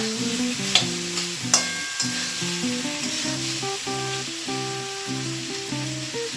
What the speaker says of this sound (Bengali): এদিকে আমার ফ্রাইড রাইসের সবজিগুলো কুকড হচ্ছে, এটাকেও আমি নাড়িয়ে নিচ্ছি।